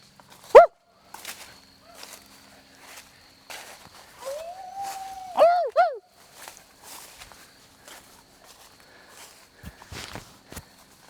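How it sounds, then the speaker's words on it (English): A dog barks once in a forest, a short, clear yelp near the start. Footsteps crunch on twigs throughout, and a longer whining, whimpering call follows mid-way. The sounds are fairly faint and come from a short distance, with no speech. "I legit heard a bark."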